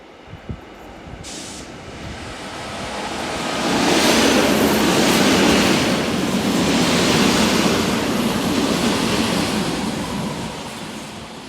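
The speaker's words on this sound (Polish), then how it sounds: "Dojeżdża skład Regio do Raciborza." Regio passenger train bound for Racibórz pulling into Opole station, a loud rumbling roar that swells as it draws near and rolls steadily on, with no voices.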